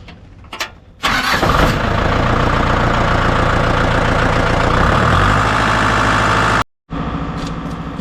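A Chevrolet Silverado pickup truck engine cranks and tries to start with a tractor charging its weak battery, a steady loud churning for several seconds that then cuts out briefly and resumes.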